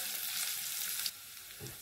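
Chopped white parts of green onions hit a hot pan and sizzle loudly as a steady broadband hiss, the hiss dropping in level after about a second, with a brief low clatter of stirring near the end.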